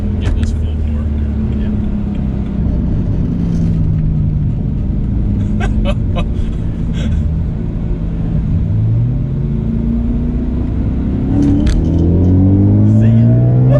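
Car engine rumbling steadily at close range, then revving with rising pitch as it pulls away toward the end; a few faint clicks and voices sit under the drone.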